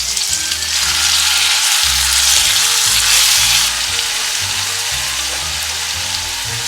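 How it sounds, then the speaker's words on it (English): Pears cook in a light caramel in a pan, giving a loud continuous bubbling sizzle with faint stirring, close and unbroken throughout. "Stir in the pears and cook for 3 minutes."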